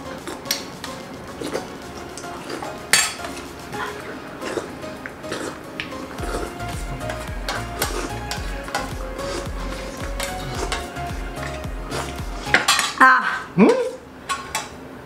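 Spoons clinking and scraping on plates while aloo tikki chaat is eaten, with frequent close metallic taps scattered irregularly throughout and a brief burst of louder clatter near the end.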